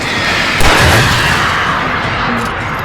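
Gunfire in Alan Wake Remastered, a loud, dense burst of game combat with a heavy thump near the start that settles into a sustained rumble of shots and noise.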